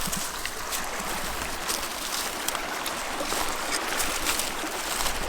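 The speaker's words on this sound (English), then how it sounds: "We got the creek running right by us." A mountain creek runs close by on a wooded mountainside, a constant hissing wash of flowing water, fairly soft and unbroken, with no one talking.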